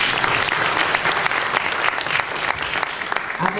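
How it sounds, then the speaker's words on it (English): A crowd at a mayoral candidate forum in a Baptist church claps loudly and continuously in a thick, even wash of applause from start to finish. "Community, please give yourselves a round of applause."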